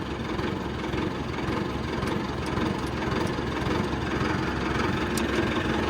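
A tractor engine idles steadily and close by, a low, continuous rumble with a rough knocking texture that runs unchanged throughout, no voices.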